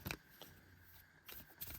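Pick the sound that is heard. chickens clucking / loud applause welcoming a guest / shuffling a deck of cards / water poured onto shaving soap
shuffling a deck of cards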